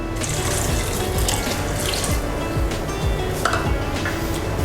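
Water pours steadily into a cooking pot holding coconut milk, a continuous close splashing stream with a faint clink of cookware.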